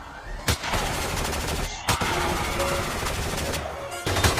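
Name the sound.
gunfire, men opening fire in a Jurassic Park fan film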